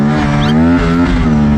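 An Aprilia RS 457 sport motorcycle (2024) revving hard on a race track, its steady, strong engine drone with clear harmonics holding loud and near, then rising slightly in pitch.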